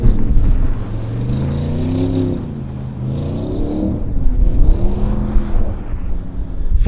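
A 2020 Audi RS4 driven flat out on snow, engine revving hard with rising and falling pitch as it accelerates, loud and close throughout with no talking.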